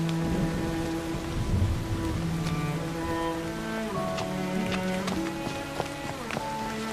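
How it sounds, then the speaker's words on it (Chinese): Rain falling steadily, a continuous close wash of drops on surfaces with a few sharper drip-like ticks, under sustained tonal background music. "夫人，下雨了"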